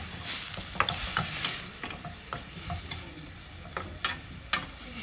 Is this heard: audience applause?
no